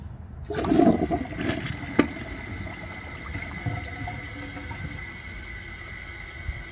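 Delta Corrente toilet flushing a dish towel: a sharp flush onset followed by rushing, gurgling water that settles into a steady refill hiss, close and fairly quiet.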